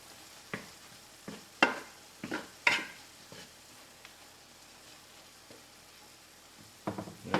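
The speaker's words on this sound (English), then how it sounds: "I'm just gonna add this other big chunk of roll butter into that noodle right there. Make sure this get all mixed in." Butter being stirred into seafood pasta in a hot pan gives a faint sizzle under scattered scraping clinks of a utensil against the pan, with no talking.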